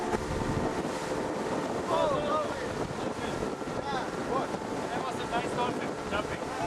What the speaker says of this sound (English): The engines scream their lungs out as the boat is jetting westward.